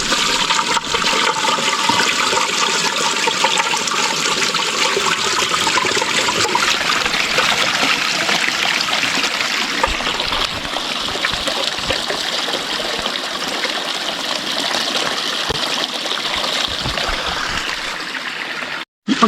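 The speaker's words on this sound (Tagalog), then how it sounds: "Ayun, may sapa doon." A stream near a gold mine in the mountains of Abra flows with a loud, steady rush and gurgle that never lets up, close by and alone with no voices.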